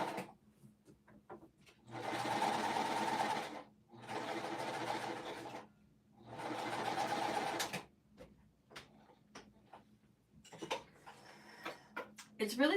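A home sewing machine stitching jelly roll quilt strips runs in three steady bursts of a couple of seconds each, separated by pauses, followed by light handling clicks and soft rustles at close range.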